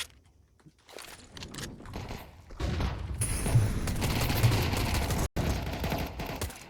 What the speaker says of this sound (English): The USPs are doing the damage.